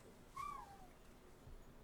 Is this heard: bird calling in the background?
yes